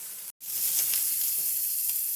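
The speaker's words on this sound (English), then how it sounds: "while those are sizzling there" Steady, bright sizzling of chicken apple sausages frying in a hot pan, continuous and close, with a brief dropout near the start and no voices.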